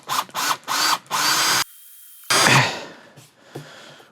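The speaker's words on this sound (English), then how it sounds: "Oh, that one's a really nice drill. It's made a nice hole." A power drill bores a hole into a water heater tank in several short whirring bursts, then one longer run, before the motor winds down into quiet.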